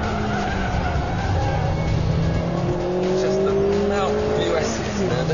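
A Ford Fiesta or Mitsubishi Colt engine drops in pitch through downshifts to 3rd gear as tires squeal and skid under hard braking into a hairpin, loud and close.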